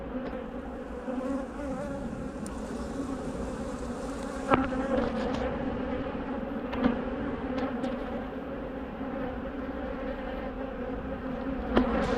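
Many aggressive honey bees hum in a continuous close swarm at an opened hive being smoked, with a few sharp clicks and knocks breaking through now and then.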